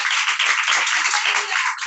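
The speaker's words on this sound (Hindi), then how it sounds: "जॉनसन भाई के लिए तालियां बजा दें" A small group claps for Brother Johnson in a seminary class, a dense, close burst of hand clapping lasting under two seconds.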